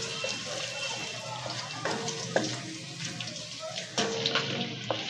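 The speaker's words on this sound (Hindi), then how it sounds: "ज़रा इसको फ्राई कर लिया हमने" Whole spices, cumin, whole garam masala and bay leaves, fry in oil with a steady soft crackle and a few sharper clinks of stirring, close and moderately quiet, with faint background noise.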